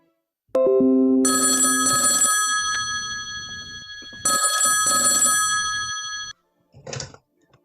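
A stage telephone in a play rings in two long, loud electric bell bursts, followed by a shorter faint ring as it is answered.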